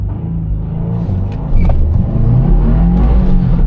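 A Subaru WRX launches hard from a standstill with a little wheel spin, its engine loud and close, building in a steady rising pull and getting louder partway through.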